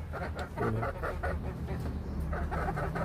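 Three pet chickens, one a rooster, cluck in short, repeated bursts close by, over a low steady hum with no talking.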